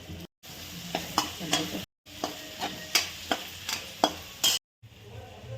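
Onion and small tomatoes sautéing in a pan with salt, giving a soft sizzle broken by repeated stirring scrapes and clicks of a utensil, close and moderately quiet, with no talking.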